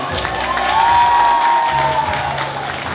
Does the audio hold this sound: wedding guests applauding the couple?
yes